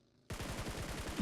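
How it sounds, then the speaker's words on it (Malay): Rapid UMP submachine gun bursts from PUBG Mobile start abruptly and run in a fast, even rhythm, loud and continuous through the short stretch. "tembakan pun dilepaskan di hadapan dengan UMP kali ini berjaya menjatuhkan 1-1"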